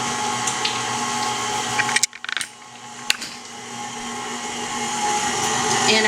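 A stand mixer churns cream cheese on its stir setting with a loud, steady motor whir, briefly cutting out and then ramping back up to a continuous hum.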